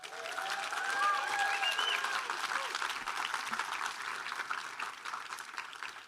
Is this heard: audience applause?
yes